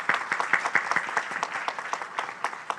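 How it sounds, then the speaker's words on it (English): Audience applause at a maritime leaders' dialogue during India Maritime Week, a room of distinct, crisp claps in a moderate, steady patter. "Can we have a huge round of applause for Deputy Prime Minister of Singapore?"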